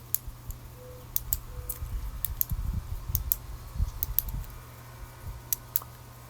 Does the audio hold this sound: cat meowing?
no